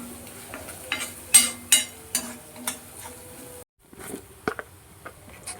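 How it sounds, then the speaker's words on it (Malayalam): Onions with a pinch of salt stirred in a pan for a potato roast, quiet sizzling with a series of scraping spatula strokes and clicks, close and alone, with a brief gap near the end. "എന്നിട്ട് എല്ലാം കൂടി നന്നായിട്ട് വഴറ്റുക."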